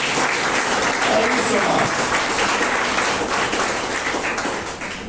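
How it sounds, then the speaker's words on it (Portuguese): A church congregation breaks into sustained, loud applause, a dense continuous roar of clapping that tapers slightly at the end, while someone speaks briefly over it. "Você pode aplaudir o Senhor por isso?"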